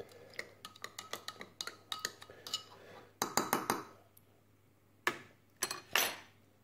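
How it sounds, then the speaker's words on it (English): A utensil stirs a Dutch combat ration meal in its container, scraping and clinking in quick irregular bursts, crisp metallic ticks clustered together with brief pauses, close and clear with no talking. "So let's stir it around a little bit. Stirring."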